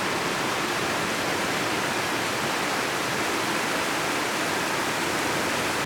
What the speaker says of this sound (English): Nice little waterfall on the other side.